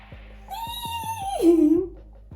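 A person's voice imitating a horse neighing, a wavering pitched whinny that rises then drops into a lower nasal tone.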